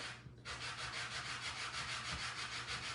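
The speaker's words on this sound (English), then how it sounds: "let's sand her down a little bit" A wooden riser is sanded by hand with quick, rhythmic back-and-forth rasping strokes, close and steady for nearly three seconds after a short pause.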